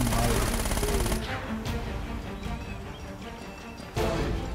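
AK-47 hip fire in the Uncharted: Drake's Fortune video game, a loud rapid automatic burst at the start. Quieter game ambience follows, then another burst near the end.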